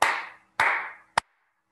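Two loud, close hand claps with lingering room ring, followed quickly by a third shorter, drier clap; no talking.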